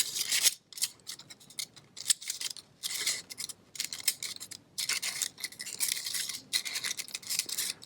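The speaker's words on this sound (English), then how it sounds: "Cut them a little bit further." Scissors cut paper for a worm puppet craft, making repeated close crisp snipping and rasping strokes in quick irregular bursts with short pauses.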